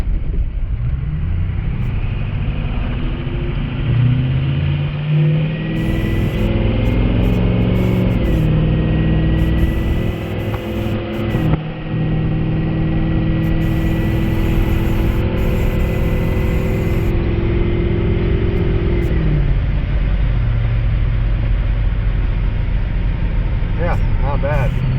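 A 2005 Ford F550 truck engine drones loud and close from inside the cab while driving, rising and falling with gear changes over a steady low rumble, with someone talking intermittently over it.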